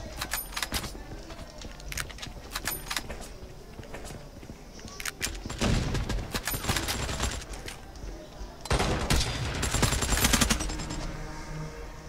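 Rapid bursts of video game gunfire crackle in clusters, with louder automatic volleys later, over a busy background of game effects.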